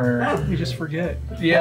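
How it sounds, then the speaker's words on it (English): A dog barks and yips in short bursts close by, mixed in under steady conversational speech. "if you can hear my dog right now"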